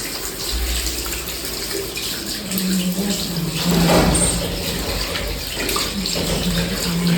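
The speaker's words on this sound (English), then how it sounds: "Before the procedure, we are going to start with the hand washing." Tap water runs steadily into a sink while hands are washed before a post-operative bed-making procedure, a continuous close splashing rush with slight changes as the hands move through the stream.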